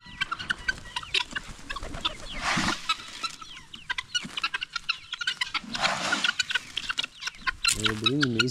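Loud guinea fowl clucking and squawking, with bursts of harsh cackling and a rising repeated call near the end, busy and close, over a voice.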